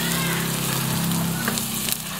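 Onions sauté with browned garlic in a pan for soup, giving a steady close sizzle and crackle, with a few utensil scrapes toward the end and no clear talking.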